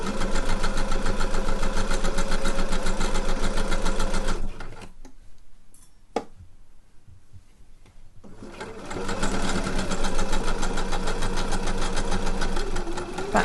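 A sewing machine stitches a seam on a caftan bodice panel, running loud and steady up close, pausing briefly in the middle, then whirring on again at full pace.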